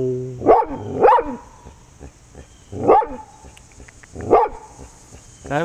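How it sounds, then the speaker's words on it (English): A dog barks close and loud in four sharp bursts, two close together and then two more spaced apart, with nobody talking. "A very, very good girl, but she's a dog."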